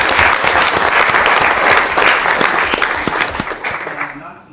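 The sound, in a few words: round of applause at a council meeting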